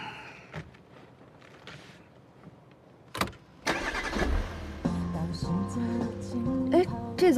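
A car with a low battery fails to start: a few brief mechanical clicks and thumps around the ignition attempt, then no engine catches as music swells and carries through to the end.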